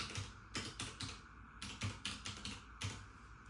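Quick keystrokes on a computer keyboard entering a trading card name into an online grading submission form, a close, fairly quiet run of clustered clicks with short pauses between bursts.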